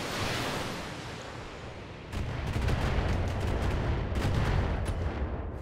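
Mech weapons fire in the Battletech video game, a heavy rumbling barrage that swells into a louder sustained roar with scattered sharp cracks and impacts layered through it.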